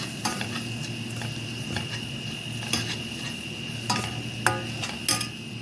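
Spices such as turmeric and cumin frying with garlic in a pot for Ethiopian yellow lentil stew, a steady close sizzle broken by several short scraping stirs, with no talking.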